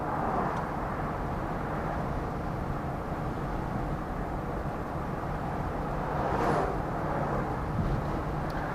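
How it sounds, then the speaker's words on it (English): A 1970 Cadillac DeVille convertible cruises at about 55 to 60 mph with a steady, moderate rush of road and wind noise and a low engine hum, swelling briefly toward the end. "Right now we're cruising along about 55, 60 miles an hour"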